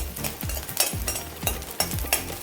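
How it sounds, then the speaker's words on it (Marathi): Fifteen garlic cloves roast in oil in a pan over low heat with a soft, steady sizzle, while a spoon stirs and scrapes against the metal in a regular rhythm, close by and without talk. "इथे पंधरा लसण पाकळ्या घेत आहे त्या टाकून देऊ आणि त्याला पण छान भाजून घेऊ"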